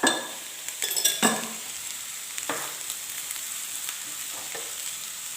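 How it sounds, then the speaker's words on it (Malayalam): Onions sautéing with salt in a pan, a steady close sizzle and crackle with a few sharp stirring clinks of a utensil near the start. "സവോള പെട്ടെന്ന് വഴന്ന് വരാനായി ഒരു അര ടീസ്പൂൺ ഉപ്പും കൂടെ ചേർത്ത് കൊടുക്കാം"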